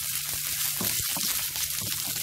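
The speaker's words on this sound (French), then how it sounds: "vous les faites sauter dans l'huile d'olive" Shrimp sautéing in olive oil in a pan, a dense, steady sizzle heard close and continuous, with a low hum underneath and no talk.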